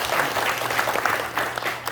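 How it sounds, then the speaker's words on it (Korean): Audience applause for university president Yoon Jae-hong at the first Dongguk forum, a steady sustained clapping from a crowd filling the hall, moderately loud and continuous throughout with no speech over it. "윤재홍 총장님께 다시 한번 응원의 박수 부탁드리겠습니다"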